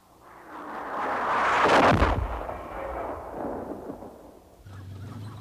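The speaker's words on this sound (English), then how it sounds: "The RBS-70 operator directs an invisible laser beam against the enemy aircraft, and the missile rides along the beam into the target." A Swedish RBS-70 man-portable missile firing, a loud booming blast that rises into a sustained roaring rush and then fades away over a few seconds, heard alone.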